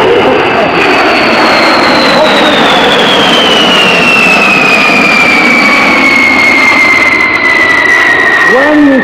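A B-52 bomber with eight jet engines passes at the Oshkosh air show in 2017, giving a loud, continuous roar and a high whine that slowly falls in pitch as it goes by.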